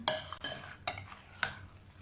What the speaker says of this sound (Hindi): इन सबको अच्छे तरीके से मिक्स कर लेते हैं